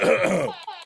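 A person gives a quick burst of coughing as a comedic interruption, loud and close, followed by a couple of short, fainter coughs trailing off.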